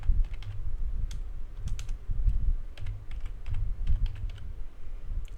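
Rapid clicking keystrokes on a computer keyboard as a macro is typed, close and steady with short pauses between bursts, no talking.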